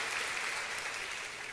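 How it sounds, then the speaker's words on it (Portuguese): A church congregation applauds during an evening child dedication service, a steady, even wash of many hands clapping without pause, moderately distant. "Vamos aplaudir o Senhor por essa família, Lagoinha."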